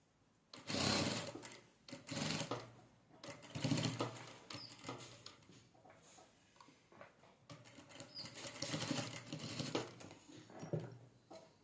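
A sewing machine stitches lace onto the neckline of a kali-style frock, its motor running in several bursts of fast, even needle chatter separated by short pauses, fairly close and steady, with no talking.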